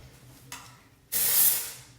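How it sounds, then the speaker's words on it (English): Hair volumizing spray released in a single loud hiss at the roots, lasting under a second after a fainter brief puff just before, close to the ear. "I spray it at the root, work my way down."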